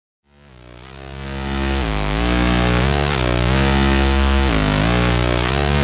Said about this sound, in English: The diode is currently processing a synth sequence in low pass mode, allowing me to smoothly round off some of the high-end overtones.